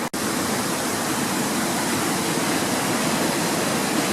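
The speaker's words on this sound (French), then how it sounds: "on voit toujours l'eau qui descend de la montagne et celle qui vient de la résurgence" Flood water rushing down from the mountain a day after a storm, a loud, dense, unbroken roar of torrent close by, steady throughout with no voices.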